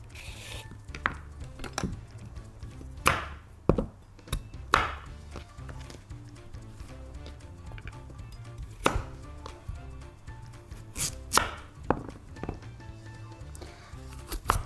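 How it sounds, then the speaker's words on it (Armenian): A knife chops fresh parsley finely on a board, close up, in irregular runs of crisp taps with louder knocks now and then and short pauses between bursts. "կարող ենք արդեն ստեփղինը կտրատել"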